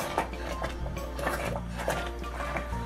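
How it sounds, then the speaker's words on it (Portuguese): A spoon stirs thick chocolate brigadeiro filling in a pot, scraping the bottom with rhythmic clinks and knocks against the metal, close up and without talk. "Vou mexer até desgrudar do fundo da panela"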